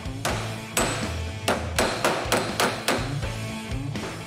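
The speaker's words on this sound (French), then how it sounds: "c'est armé d'un marteau et d'une cale que notre carrossière va redresser l'arête" A bodyworker straightening the edge of a car body panel with a hammer and dolly, about a dozen sharp metallic blows in an uneven rhythm, close and loud.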